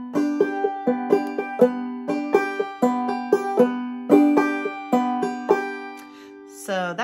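Clawhammer banjo plays a syncopated strum with drop-thumb notes, bright close plucks and brushed chords in a lively, uneven repeating rhythm, ending with a short upward sliding tone.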